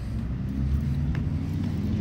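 A truck with a reefer trailer rolls along a road, a steady low broadband roar of engine and tires that holds at moderate loudness for the whole stretch, with no voices.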